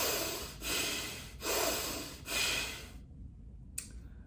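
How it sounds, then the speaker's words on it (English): Bellows breathing (Bhastrika pranayama), three forceful, evenly paced breath cycles with loud rushing air close to the mic, then near silence and a final short sharp burst. "Now, Bastrika Pranayama, bellows breathing."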